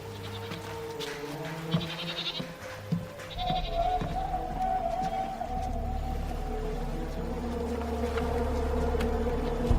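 An escaped goat bleats several times in a quiet outdoor setting at night, the calls faint to moderate and somewhat distant, over a steady low hum and insect-like buzzing.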